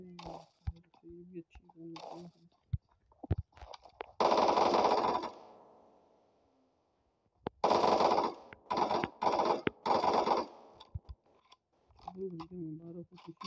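Automatic weapon fire in the battle royale game PUBG: two long, loud sprays of rapid shots with shorter bursts between them, while someone talks excitedly in the gaps.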